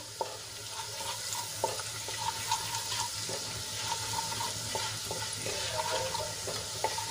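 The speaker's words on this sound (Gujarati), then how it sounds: "ચણાનો લોટ થોડોક સંતળાઈ ગયો છે" Soft, steady sizzling of chickpea flour sautéing in a pan, with scattered light scrapes and clicks over a low background hum.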